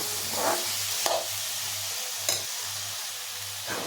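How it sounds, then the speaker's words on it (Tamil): Onions and tomatoes sauté in a pan with a steady sizzle and a low hum beneath it, broken by a few sharp scrapes and clatters of the spatula, with no one speaking. "இப்போ எல்லாத்தையும் சேர்த்து நல்லா வதக்கி பொன்னிறமாக வர வரைக்கும் வதக்கணும்."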